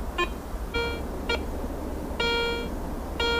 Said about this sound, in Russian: Пищит.